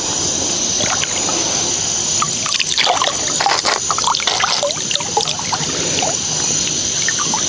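River snails and stones washed by hand in cold river water at night, with close sloshing, trickling and dripping splashes in irregular bursts over a steady background.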